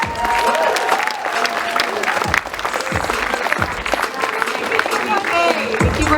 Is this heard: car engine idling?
no